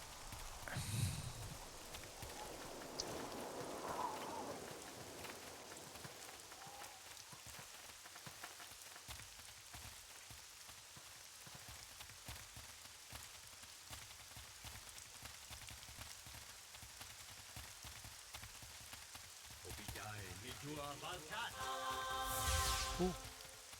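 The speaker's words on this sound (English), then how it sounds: "Oh, the rain's caught up with us." Steady rain patters down in the Neverwinter Nights video game, a soft continuous wash lasting throughout, with brief sharper game sounds at the start and end.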